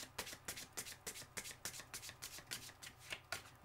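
A deck of tarot cards being shuffled by hand, with a steady run of crisp, close riffling flutters repeating about every third of a second, quiet and alone with no talk.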